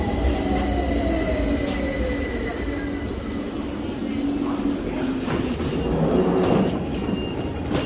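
Metal train wheels squeal steadily against the rails as carriages roll slowly along a station platform at Victoria, a loud, continuous screech with low rumbling underneath.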